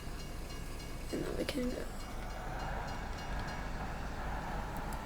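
A freight train in the Farming Simulator 22 video game rolls past a level crossing, a steady rumble and hiss running under a voice throughout.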